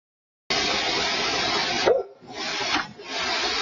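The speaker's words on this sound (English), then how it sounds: "Golden retriever barking at them and running away." A golden retriever barks in a burst of harsh, noisy sound that runs for about three seconds after a silent opening, with a brief dip near the middle.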